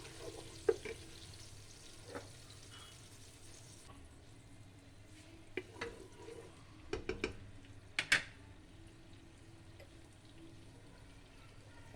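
A tomato lightly frying in a pan, giving a quiet steady sizzle with scattered clicks and clinks of a spoon stirring against the pan.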